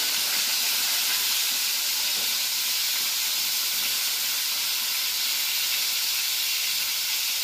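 Salt-stuffed brinjals hiss loudly in a hot pan, a strong, even, steam-like sizzle that holds unbroken from start to finish, close and with no talk.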